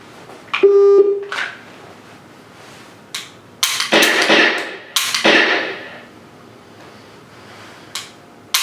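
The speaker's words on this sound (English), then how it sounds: "the program will deliver the range commands and a beep when you are good to start shooting" A dry fire training program for laser-cartridge practice gives a short, clear electronic start beep near the beginning. Several sharp clicks and bursts of noise follow, with no talking.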